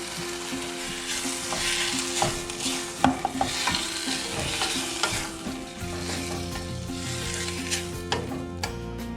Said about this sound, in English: Now I add the black beans and the juices.